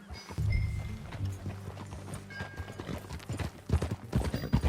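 Horse hooves clip-clop in an uneven, moving rhythm, close by, with a brief whinny-like sound mixed in and no talking, from the video game Red Dead Redemption 2.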